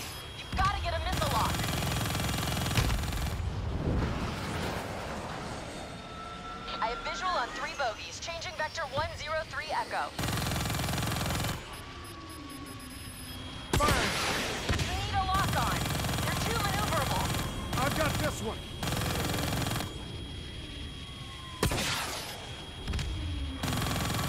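Heavy gunfire in the Black Ops 3 campaign rattles in repeated loud bursts and fusillades, broken by short pauses, with engine and combat noise underneath and voices talking over parts of it.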